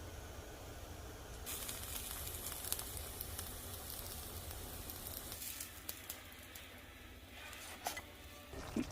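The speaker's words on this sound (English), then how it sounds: "fold it, and let it cook until it's crispy on the outside" Corn tortilla folded over queso fresco frying in a pan, a steady soft sizzle with faint scraping and clinks, heard close and low without talk.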